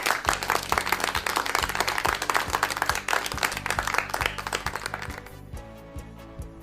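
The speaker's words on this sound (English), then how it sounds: "A big clap to all of you guys." Clapping on a radio school lesson broadcast for a Grade 9 physical education class, a dense burst of claps over a low rhythmic music bed that thins and stops near the end.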